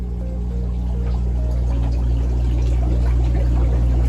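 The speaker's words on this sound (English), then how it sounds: "That is a bubbling cauldron of organic fertilizer" A vat of liquid organic fertilizer bubbles and churns with a constant watery gurgle over a low mechanical hum, loud and close, steady throughout with no voices.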